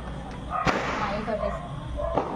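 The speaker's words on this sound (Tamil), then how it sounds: "பயமா பட்டாசுலாம் வேற வெடிக்கிறாங்க" Firecrackers burst outdoors at a Karthigai Deepam festival, with a few sharp cracks spread out in time over a busy, crowded background of voices.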